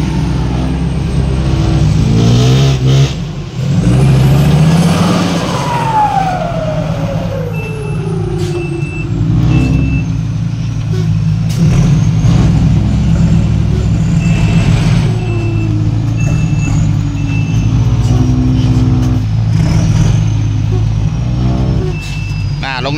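A heavy dump truck engine roaring loudly as it climbs out of a pond to tip soil, with sustained revving, shifting engine pitch, bursts of air-brake hiss and beeping, and voices talking over the din.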